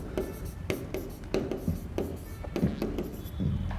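Someone writes out the solution to a linear equations in two variables exercise by hand, producing close, steady scratchy strokes in a quick irregular rhythm, with no talking over it.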